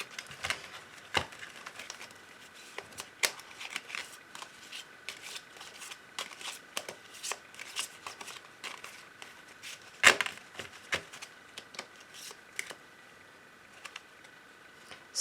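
A deck of lovers' oracle cards is shuffled by hand for a reading, giving soft, close papery riffles and light slaps in irregular bursts. One sharper snap stands out partway through, with no talking.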